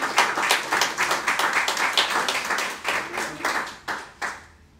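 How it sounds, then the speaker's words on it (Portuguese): A church congregation at Igreja de Nova Vida do Catete claps together in a dense, lively burst of many hands that thins out and fades toward the end. "aplauda o Senhor com o seu melhor"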